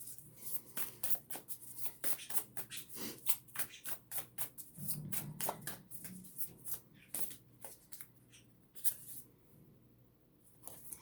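A self-care card deck is shuffled by hand at close range, giving a quick series of soft riffling slaps and paper flicks that taper off toward the end, fairly quiet.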